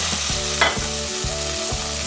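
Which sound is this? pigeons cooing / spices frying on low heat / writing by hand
spices frying on low heat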